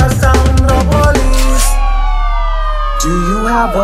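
A police siren wails through a reggae song, with rising and falling tones sweeping over a steady low bass drone, loud and up front.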